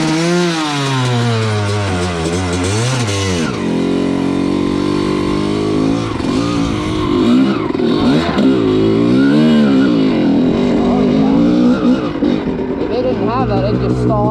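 A Honda CR250 two-stroke dirt bike engine revs and bogs as the clutch is let out slowly, loud and close, its pitch rising and falling over about fourteen seconds with people talking over it.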